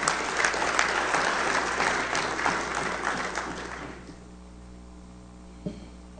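An audience applauds at the opening ceremony of a CARICOM heads-of-government meeting at a Marriott in Port-au-Prince, a loud dense burst of clapping that tapers off and fades into quiet room tone, with a faint knock near the end.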